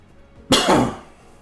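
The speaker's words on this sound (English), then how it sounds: "Don't know where this cough came from." A single sharp cough close to the microphone, a sudden loud burst that trails off within half a second amid otherwise quiet room tone.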